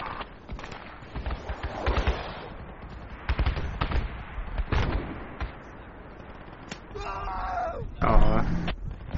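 Bursts of rifle and automatic gunfire from the military shooter game Project Reality crack in irregular volleys, some near and some distant, mixed with talking among squad members.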